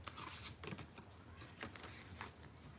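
Moonology oracle cards are shuffled by hand in a quiet room, a faint run of soft papery riffles and flicks in short uneven bursts, with no talk.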